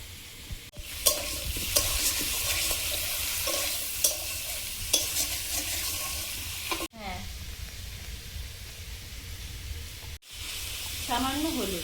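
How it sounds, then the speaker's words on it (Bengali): Prawns frying lightly in hot oil for a fish curry, a steady close sizzle with scraping stirs, a spoon striking the pan now and then, and a voice talking softly at moments. "চিংড়ি মাছটা হালকা ভেজে নিয়েছি"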